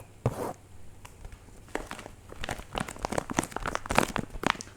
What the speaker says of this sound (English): A lot of like plastic bag triggers.